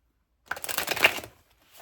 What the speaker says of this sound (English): Cards are even struggling to shuffle today.